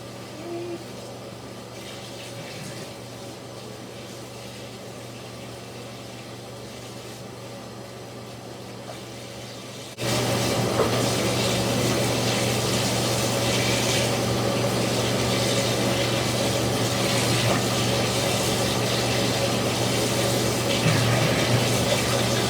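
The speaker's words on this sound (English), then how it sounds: "And we're going to rinse in cold water." Cold water running to rinse dyed faux fur, a steady hiss that jumps noticeably louder about halfway through as the flow increases, continuing evenly to the end.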